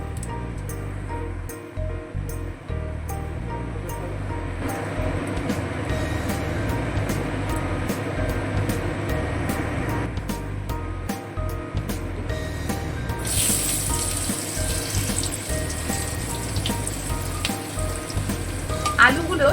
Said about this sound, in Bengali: এবারে আমরা কেটে রাখা আলুগুলো তেলের মধ্যে দিয়ে দেবো